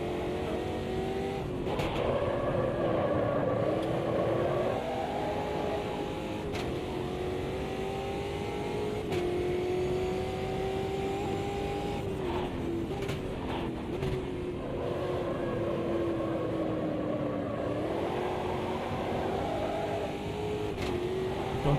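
Racing car engine in a sim racing game, a historic touring car held on throttle through corners, continuous droning revs rising and falling with gear changes and faint tyre squeal, steady and close throughout.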